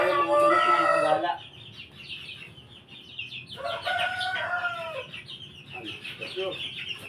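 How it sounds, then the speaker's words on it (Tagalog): Free-roaming backyard chickens cluck and call close by, a dense burst of clucking at the start, then scattered calls and a louder cackling flurry midway, with quieter clucks toward the end. "meron tayo mga manok na nakagala"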